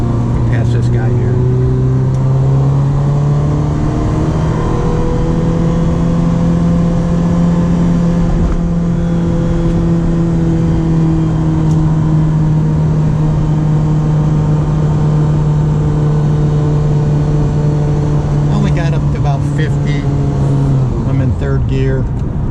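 A 1989 Ferrari Mondial T Coupe's engine drones steadily from inside the car while driving and passing another vehicle, its pitch rising gently and then easing, loud and continuous throughout.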